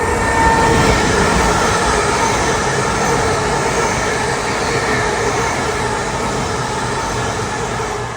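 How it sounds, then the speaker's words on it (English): A train rolling through Durham station, a continuous loud rumble and metallic roar close to the platform, fading slightly toward the end. "That wasn't our train, but it should be here soon."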